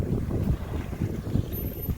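Gusty wind buffets a sailboat tacking along the coast of the San Juan Islands, a loud rushing roar with pulsing surges and water wash, close and continuous with no talk.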